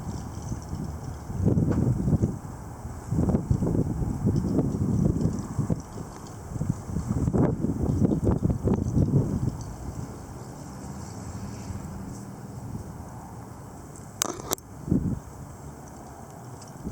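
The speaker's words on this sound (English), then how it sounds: "there's never an end to this fucking wind" Strong gusty wind behind a cold front buffets the microphone in heavy low rumbling surges that come and go, then eases to a steadier hiss, with a few brief knocks near the end.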